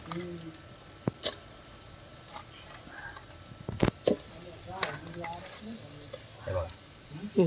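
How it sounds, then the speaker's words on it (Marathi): Crabs fry in a spiced masala in a pan, a quiet sizzle broken by sharp clinks and scrapes of a spoon, with a few faint voice sounds. "आता याच्यात टाकणार आहे आपण खेकडे"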